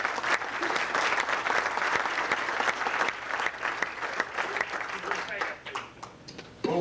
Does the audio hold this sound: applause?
yes